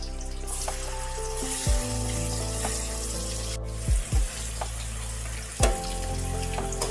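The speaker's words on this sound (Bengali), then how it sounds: "তেলটা গরম হয়ে গেলে পানিরগুলোকে হালকা করে একটু ভেজে নিতে হবে" Paneer frying lightly in hot ghee mixed with white oil, giving a steady soft sizzle, with a few sharp clinks and knocks of utensils close by.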